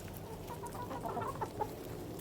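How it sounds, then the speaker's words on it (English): Laying hens, a mixed flock of about 20 Rhode Island Reds, Black Australorps, Buff Orpingtons and Barred Rocks, cluck in scattered short bursts over a steady farmyard background, with a couple of louder calls near the end. "We have 4 varieties of laying hens."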